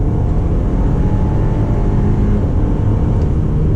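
An Audi Q5 SUV accelerating in sport mode, a loud steady engine drone and road rumble heard from inside the cabin, with no talking.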